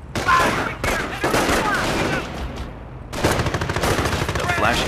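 Rifle squad gunfire in Company of Heroes, loud rapid volleys of rifle and machine-gun shots close by, breaking off briefly then resuming in dense bursts.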